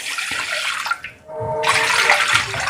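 Cold water from the fridge pours into glasses in a steady broadband rush, pauses briefly, then resumes with a brighter, fuller flow. No voices.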